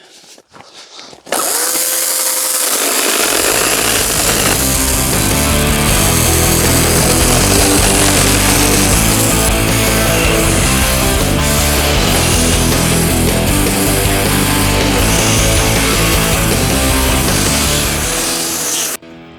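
A Ryobi 18V brushless 12-inch cordless chainsaw starts and runs at high, steady revs for a long stretch cutting wood, loud and close with a buzzing whine that varies slightly as it cuts.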